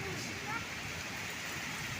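Monsoon rain falls under strong wind that shakes mango trees, a faint, steady, even hiss of downpour and gusts that fills the whole moment without letting up.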